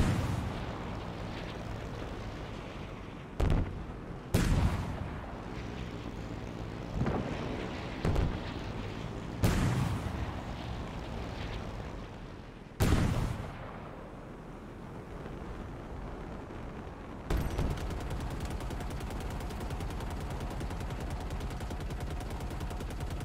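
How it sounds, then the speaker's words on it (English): Shock rifle fire in Halo Infinite, heard as a handful of sharp, loud discharges spaced irregularly over a steady background of game ambience and wind-like noise, with no talking. "See who's shooting at with the shock rifle so I can kill"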